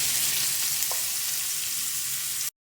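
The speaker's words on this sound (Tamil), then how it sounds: "இப்போ நான் ஆனியன் ஆட் பண்ணிக்கிறேன்." Onions sizzle steadily in hot oil along with mustard seeds and urad dal, a continuous close frying hiss that holds evenly and then stops abruptly, with no talking.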